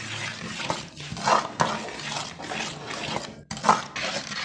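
Powdered sugar is mixed into a panjiri mixture with close, continuous scraping and stirring strokes in a pan, swelling and easing in a loose rhythm.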